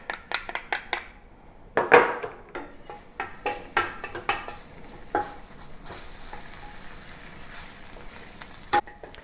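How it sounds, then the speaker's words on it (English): Garlic and ginger go into hot Sichuan peppercorn-infused oil in a pan, with a quiet sizzle under repeated sharp clinks and scrapes of a utensil stirring against the cookware. "Now I heat up the oil that has infused with the flavor of the Sichuan peppercorn, and then I add the garlic and ginger into it."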